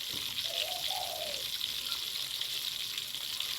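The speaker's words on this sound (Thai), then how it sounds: "ทอดปลากินง่ายๆพี่น้อง" Fish frying in hot oil, a steady broad hiss of sizzling that holds at an even level throughout, close and continuous with no voices over it.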